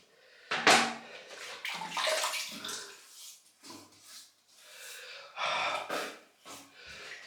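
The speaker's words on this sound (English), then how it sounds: "let's get wet in the face and get lathering" Water splashes close by as a face is wetted over a basin before a wet shave. Several bursts of splashing come with snorting, gasping breaths, and there is no talk.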